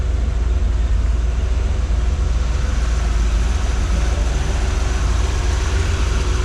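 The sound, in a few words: car engine starting and running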